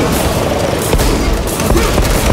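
Heavy battlefield noise from Warhammer 40K: Space Marine 2, with dense, rapid gunfire and booming grenade blasts layered into a continuous loud barrage.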